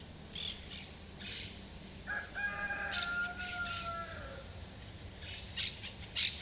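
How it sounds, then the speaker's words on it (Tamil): A fighting rooster crows once at moderate distance, a drawn-out call, with a few squawks and bird chirps around it. "இது சண்டைக்கோழி தானே?"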